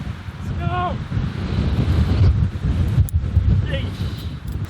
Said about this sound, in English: it's like bloody windy